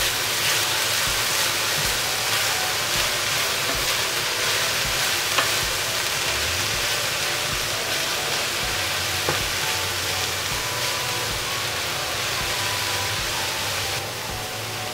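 Bok choy fries in oil in a pan, giving a steady, loud broadband sizzle close up that barely changes throughout, with occasional faint stirring clicks.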